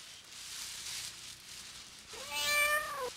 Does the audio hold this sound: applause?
no